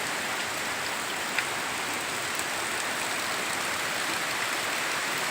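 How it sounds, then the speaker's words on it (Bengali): Heavy rain falls in a village in Bhangar, South 24 Parganas, a soft, dense, even hiss of drops on surfaces that stays steady and fairly distant throughout, with no voices. "প্রচুর বৃষ্টি"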